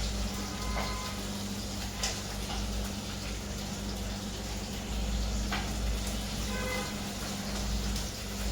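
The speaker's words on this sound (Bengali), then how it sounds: "এদিকে মনে হয় আমাদের মাছ ভাজাটা হয়ে গেছে" Pieces of fish sizzle in hot oil in a frying pan with a constant low crackle and hiss, punctuated by a few brief clinks and ticks.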